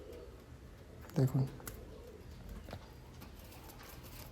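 A pair of black Jack pigeons with pilanka eyes gives a short, close double coo, low and throaty, while someone talks over steady background noise.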